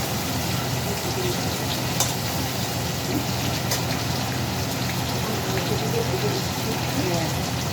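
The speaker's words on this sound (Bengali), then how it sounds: "এখন মাংসগুলো একটু ভেজে নিচ্ছি।" Marinated meat with spices frying in a pan gives a dense, continuous loud sizzle close by, with faint bubbling underneath and no talk heard.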